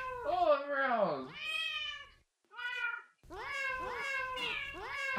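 Cartoonish cats in an indie video game meow again and again, bright sliding cries coming in quick bursts with a short silent gap, loud and close.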